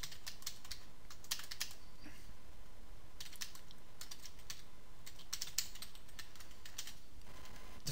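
Keystrokes on a computer keyboard while entering Java code in the Eclipse editor, arriving in quick irregular bursts with brief pauses, close and moderately quiet over a steady background hiss.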